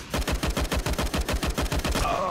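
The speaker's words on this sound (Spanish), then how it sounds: "No sé de dónde vino ese disparo" Rapid automatic gunfire in Counter-Strike: Global Offensive, a fast, evenly spaced burst of around twenty loud shots lasting about two seconds, then stopping abruptly.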